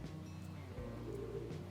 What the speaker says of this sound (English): has been that one, and that's a pigeon.